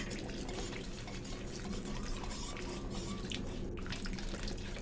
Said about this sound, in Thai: เทน้ำแป้งนะทุกคน